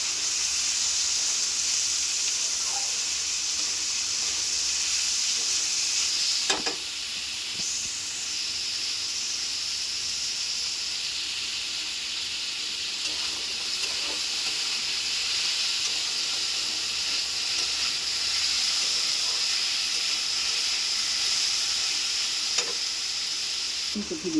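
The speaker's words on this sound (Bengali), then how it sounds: "এরপর পেঁয়াজটা আলুর সঙ্গে একটু ভালো করে লাল লাল করে ভাজবো।" Sliced onion fries with potatoes in hot oil, hissing and sizzling continuously up close, with a few sparse scrapes of the spatula.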